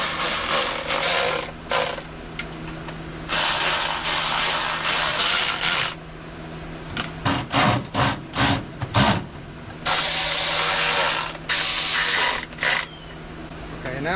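A tool snugs down the valve cover bolts on a Jeep CJ5 engine, making close bursts of metallic clicking and buzzing. They stop and start in an uneven rhythm, with a quick run of short clicks in the middle.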